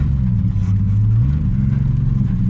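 A 1948 Studebaker abandoned for 35 years runs at a steady idle, a loud close low rumble with slight pitch wavering and nobody talking.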